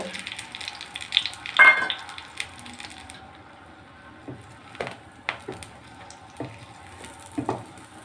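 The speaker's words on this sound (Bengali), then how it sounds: "ডিমটা ভাজা হয়ে গেছে" Faint crackling and sizzling from a pan, with a few louder scrapes and taps scattered throughout, close and fairly quiet.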